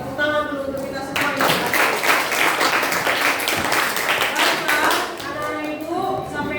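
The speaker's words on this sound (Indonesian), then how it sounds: "tepuk tangan dulu untuk kita semua" A classroom of children bursts into applause, a dense run of clapping hands that fills several seconds and then tapers off, with a teacher speaking just before and after.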